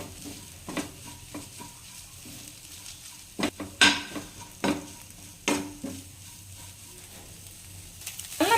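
A spoon stirs a banana flower stir-fry in a pan, with a low steady sizzle underneath and a few sharp scrapes and clinks against the pan scattered through.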